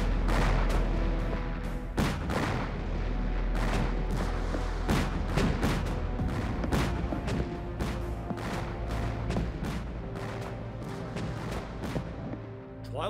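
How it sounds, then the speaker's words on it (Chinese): Cannon fire from coastal forts at British warships in a TV war drama, a long barrage of heavy booms and sharp blasts, loud and close, overlapping with crashing impacts. "传我命令，封锁长江，截击英舰，三大炮台一起向敌舰开炮"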